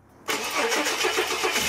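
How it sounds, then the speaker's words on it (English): A Ford Falcon car engine cranks briefly and catches, then settles into a steady, slightly pulsing idle close to the microphone, with no one speaking. "I then started the engine with the heaters cranked up all the way."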